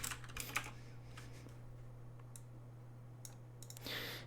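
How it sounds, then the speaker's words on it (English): Fast, light clicks of a computer keyboard come in quick bursts over a low steady hum, close by and fairly quiet, with nobody speaking. "Let's type in texture."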